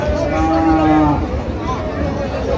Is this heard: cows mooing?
yes